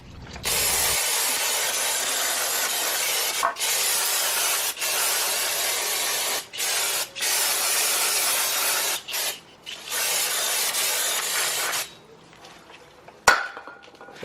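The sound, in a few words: brake cleaner spray on brake parts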